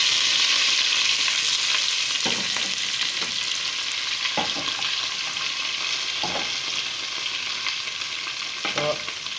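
Horse gram frying in coconut oil for a Kerala-style thoran, with a steady close sizzle and several sharp spatula scrapes and clacks as it is stirred, no voices.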